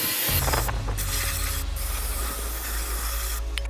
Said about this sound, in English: now you get your brake clean and you spray the living crap out of